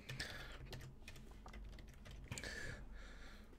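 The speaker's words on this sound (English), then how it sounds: "So for example, I'll type it right here." Fingers tap on a computer keyboard in a quiet room, a soft, close run of quick irregular keystrokes with a few brief pauses and no voices.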